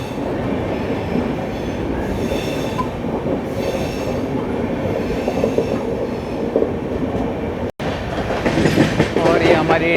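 Passenger train rakes of the Deccan Queen Express rolling on track, a steady loud rumble with wheel squeal and rhythmic clatter throughout, brief dropout near the end.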